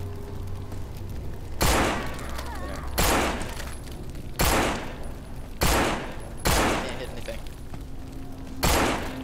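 Gunfire in the zombie video game No More Room In Hell: six sharp, loud single shots spaced roughly a second apart over a constant background hum.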